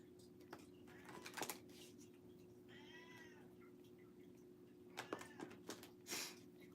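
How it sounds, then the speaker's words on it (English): A house cat meows into a closet, giving a couple of short plaintive meows between louder bumps and shuffling noises against a low hum. "my cat is meowing into the closet."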